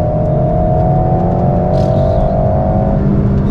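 A sports car engine accelerates hard, its intake and turbo noise coming from the rear, with a loud, steady rising drone and a whir, heard close up from inside the car.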